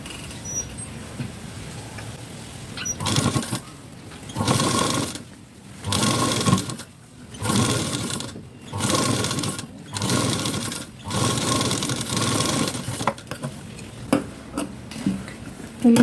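Stitching the front part of a blouse, a sewing machine hums in about six close, even bursts of a few seconds each, with brief pauses between them and quiet handling noise before and after.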